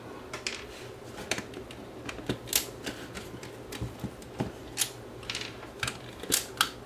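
Spools of a donor VHS video tape being swapped over by hand, giving a quiet run of sharp plastic clicks and taps at an irregular rhythm, with no talking.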